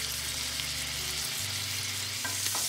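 Veal medallions sear in a hot pan, producing a steady close sizzle with low background hum and a couple of brief sharp crackles near the end.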